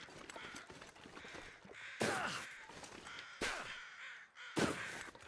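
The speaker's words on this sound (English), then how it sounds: "I hear a lot of crows." Crows caw in loud, harsh bursts that repeat every second or so, with quieter calls and a faint background hum between them, in the video game The Long Dark.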